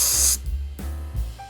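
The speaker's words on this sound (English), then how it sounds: "we just got to spray a bit of electrical cleaner on there" Electrical cleaner is sprayed onto a circuit board for a replacement Super DS-12887 RTC, a short, close aerosol hiss at the start followed by quieter handling bumps.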